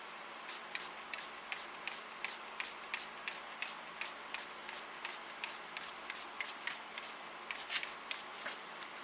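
A spray bottle mists 99% alcohol onto freshly made sea turtle soap, a steady run of short sharp hissing pumps repeated rhythmically for several seconds, close and clear with no talking.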